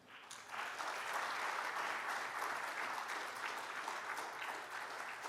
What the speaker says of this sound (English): So I think we all should give a big round of applause to the organizing team.